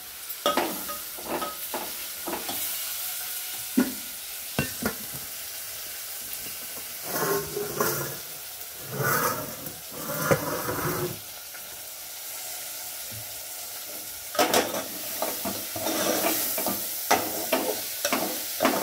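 Food sizzling and frying in a pan on a stove, stirred with repeated scraping strokes in bursts, with steady hissing underneath, close up and with no talking.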